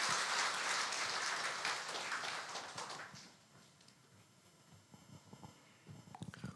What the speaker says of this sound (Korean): 우리 한 번 더 축복의 박수 하도록 하겠습니다.